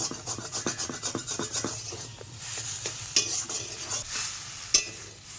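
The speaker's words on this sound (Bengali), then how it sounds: "যতক্ষণ রসটা থাকবে ততক্ষণ জ্বালিয়ে আমি রসটা মেরে নেব" Taro leaves cooking down with prawns in a pan, stirred with a scraping spoon against a steady low sizzle, in quick repeated strokes at first and then slower scrapes, heard close with no talking.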